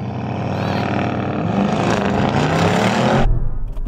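A performance car, racing a Lamborghini Urus, Brabus 850 and Model X Performance, launches hard in Cheetah mode at a drag race start, a loud, dense engine roar building steadily for a few seconds before cutting off abruptly.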